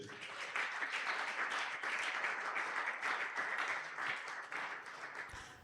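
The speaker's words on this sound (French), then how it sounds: "Est-ce que tu peux acclamer très fort pour Jésus?" A congregation at a Sunday praise and thanksgiving worship service applauds loudly, dense sustained clapping that holds steady for several seconds before thinning slightly near the end.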